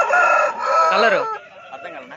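An Aseel rooster crows loudly and close by at a poultry market, one drawn-out call that tapers off into softer throaty sounds.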